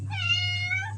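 A cat in a home kitchen gives one sustained, clear meow lasting about a second, close and loud over a steady low hum.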